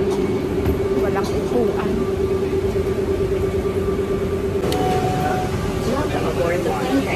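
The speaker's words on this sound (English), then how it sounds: "Please hold on. This train is departing." An airport tram hums steadily as it rolls along, with a constant tonal whine and occasional chimes, while a person speaks briefly nearby.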